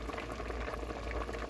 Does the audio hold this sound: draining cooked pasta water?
yes